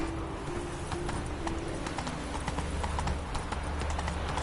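Roach, a horse in The Witcher 3, gallops with steady rapid clip-clop hoofbeats close by, carrying on throughout over a low rumbling game background.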